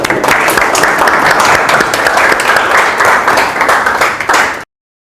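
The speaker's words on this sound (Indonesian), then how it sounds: "bagus ya, tepuk tangan ya buat Mas Agil ya." Loud, sustained applause from a lecture audience, dense clapping that holds steady for several seconds and then cuts off abruptly.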